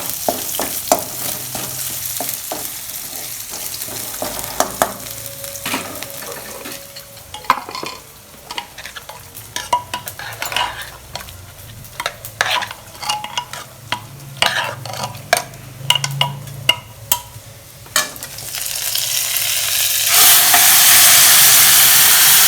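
Snake gourd sautés in a hot pan for a Tamil kootu, sizzling close and loud with frequent sharp scrapes and clatters of a spoon stirring against the pan, ending in a sustained rush of steam and hiss.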